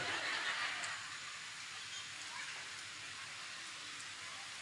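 Steady rain falls throughout, a dense broadband hiss of drops that is slightly louder at the start, with no talk over it.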